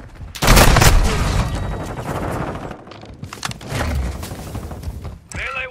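Grenade blast and gunfire during a Modern Warfare 2 Hardpoint match on the Dome map: a loud booming burst opens, followed by rattling automatic fire and bursts, with a brief electronic game sound at the end.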